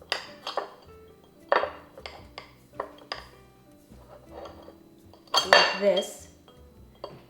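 A knife's back presses down on a vanilla bean on a hard surface in a kitchen, giving several sharp clinks and knocks at irregular intervals, with a louder cluster of clatter near the end and brief talk.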